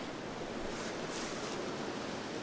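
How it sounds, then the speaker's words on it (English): Soft, steady wind rushes outdoors, a faint broadband whoosh with slight gusting swells. "It is windy though."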